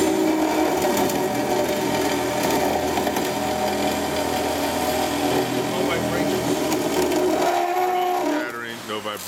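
Doringer D350 SA cold saw cutting steadily through a workpiece, a continuous mechanical whir and hum running for several seconds before winding down, with a voice talking over it.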